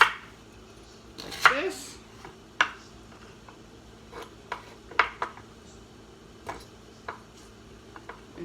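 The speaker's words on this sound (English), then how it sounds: "I cut them first in half, then in slice" Knife slicing kohlrabi on a cutting board, a series of sharp, irregular cuts and taps close up, scattered at a few per second and quiet between, with brief talking near the start.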